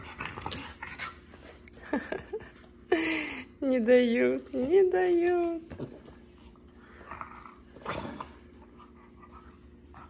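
A dog whimpers and pants in short, close bursts with a few high whines, while people talk nearby between the sounds.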